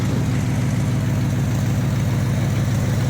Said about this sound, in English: we got the piece of crap 83 El Camino with the 305 running again